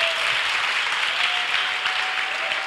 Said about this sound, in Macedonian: Уште еднаш аплауз.